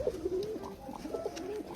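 Pigeons coo in a loft: soft, throaty, rolling coos repeat close by, several overlapping calls at a moderate level with no talking.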